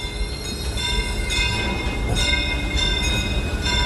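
A Disneyland steam train rolls along with a loud, close rumble of wheels on track, rattling cars and faint squeals, steady throughout with no voices.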